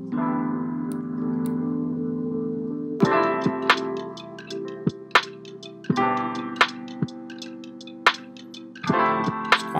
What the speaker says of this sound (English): So the sound that I was going for was a lo-fi kind of drum sound.